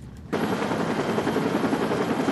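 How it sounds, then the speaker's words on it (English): A rescue helicopter arrives, its loud rotor chop and engine whine kicking in abruptly and holding steady at close range, with no talking. "That same weekend, a helicopter arrives"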